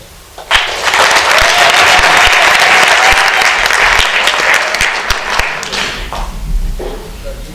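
At a youth session on South Sudan, an audience breaks into loud, sustained applause for the youth speakers, starting suddenly, holding steady for about five seconds, then tapering into scattered claps.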